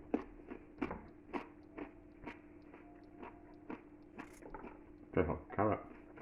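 Someone bites into and chews failed pickled carrots, producing a series of close, crisp crunches at irregular intervals, with a denser burst of crunching toward the end.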